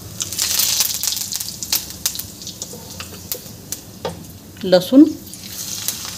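Cumin, mustard seeds, curry leaves and garlic sizzle and crackle in hot oil for a sprouted fenugreek curry, a steady close fry with a louder burst of spluttering near the end and a brief spoken word over it.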